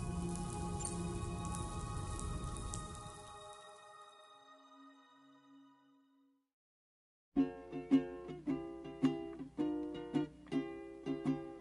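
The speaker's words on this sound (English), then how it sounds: "Those raindrops are falling on my head, they keep falling." Rain pours in the video game Death Stranding 2 as a steady, dense hiss that gradually fades away, followed by a pause and then plucked music notes in a steady rhythm.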